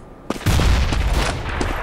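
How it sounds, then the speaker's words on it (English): A grenade explosion in Counter-Strike: Global Offensive: a short pop, then a loud, sustained low boom that rumbles on under gunfire-like bursts. "Grenade out."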